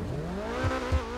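A sports car in the video game GTA 5 revs its engine, the steady tone climbing in pitch with a couple of low thumps near the end, close and fairly loud with no talk.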